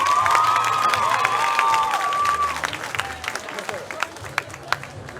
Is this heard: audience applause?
yes